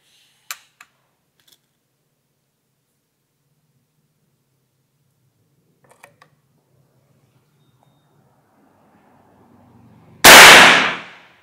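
A PCP air rifle (Big Game Klasik, filled to 3000 PSI and loaded with 8.6 grain Cannon pellets) fires one loud, sharp shot that ends a long quiet stretch broken only by a few faint clicks.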